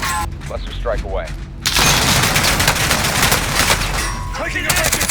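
Cluster strike explosions in a shooter video game, a dense, sustained barrage of rapid blasts and crackling fire that begins abruptly partway through, following a brief stretch of voices.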